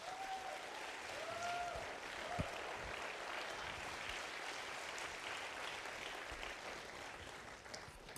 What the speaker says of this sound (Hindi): मैं चाहता हूं एक बार तालियां संदीप जी के लिए भी